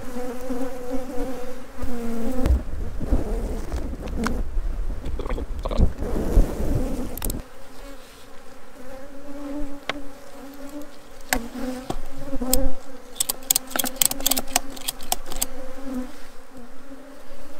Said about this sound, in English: I'll let these bees calm down a bit now